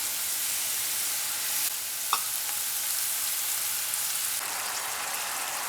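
Mushrooms searing in virgin olive oil in a pan, giving a steady, even sizzle throughout with one small sharp pop partway through, close and moderately loud with no talking.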